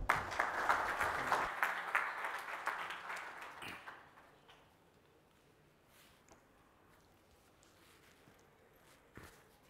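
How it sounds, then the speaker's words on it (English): Conference audience at a Great Lakes event applauds a speaker; a fairly dense round of clapping fades out over about four seconds, leaving a quiet room with a few faint knocks. "let's start the next session with a huge round of applause"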